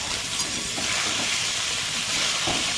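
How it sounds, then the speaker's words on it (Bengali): Paneer frying in a pan, a loud, steady sizzle and hiss of hot oil with faint stirring scrapes, no talking. "পনিরটা ভাজবো ভালো করে"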